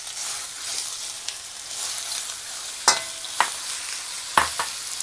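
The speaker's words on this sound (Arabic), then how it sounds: "اديها الاول بقى تشويحه كده" Minced chicken is stir-fried in oil, a soft continuous sizzle broken by three or four sharp scrapes of a utensil against the pan, close and clear.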